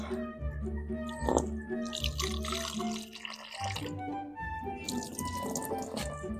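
Milkfish (bangus) rinsed under a running kitchen tap, with gushing and splashing water in uneven bursts, close by, over steady tonal background sounds.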